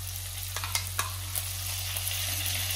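Pork pieces fry in oil with ginger and garlic, giving a continuous close sizzle broken by light scraping clicks from stirring, over a low steady hum.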